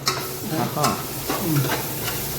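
Onions and chilli fry for a chicken curry, a dense, loud sizzle heard up close with quick stirring scrapes and clinks against the pan.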